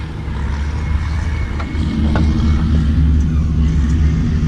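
A Caterpillar D8 bulldozer engine with a Vickers Onion cable scraper cranks and catches, settling into a loud, steady low rumble close by with a few sharp knocks and clanks over it.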